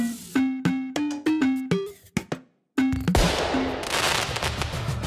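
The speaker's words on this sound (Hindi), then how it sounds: "अब देख भाई ये लहसुन बम टेस्ट करता हूँ मैं" A garlic bomb firecracker set off during a Diwali celebration: a string of sharp, evenly spaced pops and cracks, then a brief silence and one loud, close blast trailing into crackling debris.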